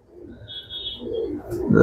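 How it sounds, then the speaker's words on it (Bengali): Racing pigeons coo softly nearby, a low throaty murmur over about two seconds, with a faint high whine and a brief rustle at the end. "খুব ভালো কবুতর দুইটাই"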